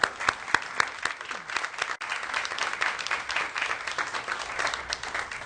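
A room full of people applauds the Voyager team at a NASA/JPL news conference, with close, crisp individual claps forming a steady round of applause throughout.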